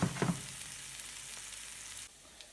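Squid strips sizzle and crackle in a hot frying pan, a loud burst at the start settling into a steady frying hiss that drops off abruptly near the end.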